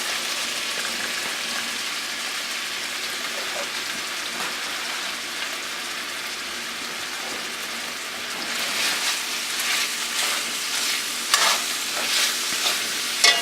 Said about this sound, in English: Let that saute down for a second.